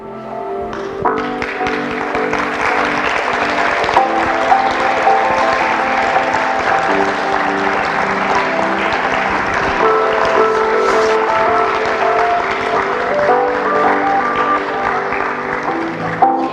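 Audience applauding young contestants at the 2017 Fostoria Glass Pageant, steady loud clapping throughout over music-like tones.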